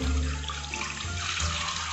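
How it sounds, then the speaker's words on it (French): Water poured over a doll's hair in a small basin, a steady close trickle and splash with a low hollow rumble, lasting throughout without any talk. "on commence par rincer nos cheveux bien correctement"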